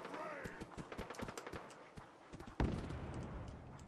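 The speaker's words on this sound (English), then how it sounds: "I hear footsteps all around me" Footsteps in Fallout 4 near Goodneighbor, a run of soft, irregular thuds over about two seconds, then a heavier burst of noise close by.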